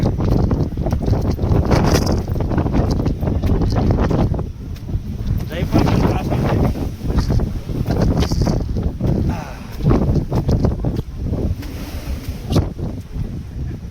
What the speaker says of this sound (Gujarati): પવન ફફડાટી બોલાવો ભાઈ